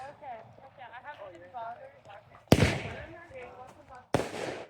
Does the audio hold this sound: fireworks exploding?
yes